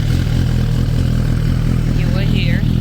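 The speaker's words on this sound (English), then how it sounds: "let me turn on the bike." A Suzuki GSX-R motorcycle engine idles close by with a steady, loud low-pitched throb and clattery pulses, while a brief higher squeal or whine sweeps in near the end.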